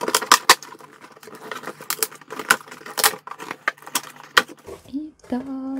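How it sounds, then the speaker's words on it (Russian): Cardboard parcel box from Douglas being opened, with a run of sharp crinkling, tearing and tapping noises close up, and a voice briefly at the end. "давайте ускорю момент открывания, потому что мне всегда тяжело открывать коробочку от Douglas"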